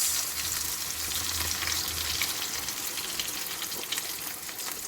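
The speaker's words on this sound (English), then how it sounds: "So right now, I'm going to tip in my eggs." Eggs tipped into a hot pan for a breakfast with fresh vine-ripened tomatoes, frying with a soft, continuous sizzle and crackle that stays close and fairly quiet throughout.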